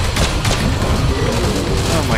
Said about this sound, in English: I keep forgetting about these cannons up here